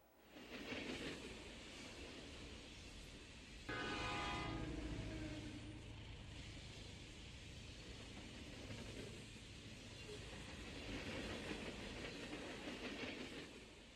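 An old steam train runs with continuous rumbling and clanking of iron wheels, its horn or whistle sounding in a loud stretch partway through, then steady rolling noise continuing.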